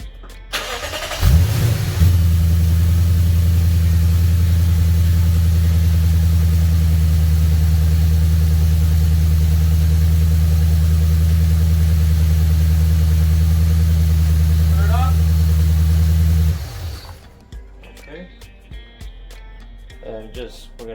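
A supercharged Lexus RC F engine cranks and fires, then settles into a loud, steady low idle held for about fifteen seconds before shutting off, with faint workshop noise afterward.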